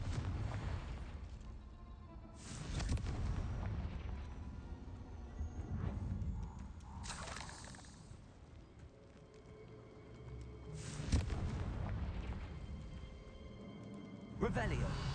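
Confringo, a blasting spell in Hogwarts Legacy, bursts repeatedly as explosive cracks and booms amid ongoing game ambience and other spell effects, recurring at irregular intervals with a voice speaking over some of them.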